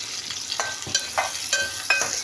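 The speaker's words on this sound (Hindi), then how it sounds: "प्याज को अच्छा मैं भूनूंगी एकदम लाल लाल" Onions fry in oil in a cooking pot, a close hissing sizzle broken by repeated scraping stirs of a spoon against the pot, several quick strokes in a loose rhythm.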